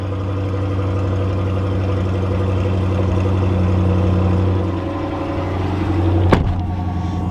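A 2022 Chevrolet Corvette C8 convertible, R Edition, runs with a steady deep exhaust drone that swells slightly before a sharp pop near the end, close and loud, with no one speaking.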